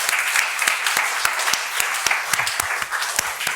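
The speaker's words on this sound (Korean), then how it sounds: "우리 하나님께 영광의 박수 올려드리겠습니다" A church congregation claps together in a steady, fairly loud round of applause, individual sharp claps popping out of the dense rattle, with faint voices mixed underneath.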